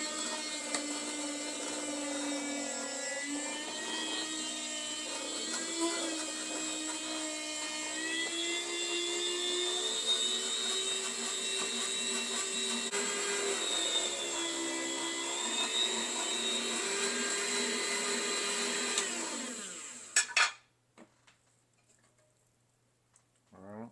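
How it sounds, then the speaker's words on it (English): A meat slicer cutting chunks of pork belly into half-inch slices, a loud, steady whirring motor whine with shifting pitch as the blade works through the meat, close, then stopping abruptly near the end, followed by brief handling clatter. "I'm going to slice all 4 of these chunks into slices."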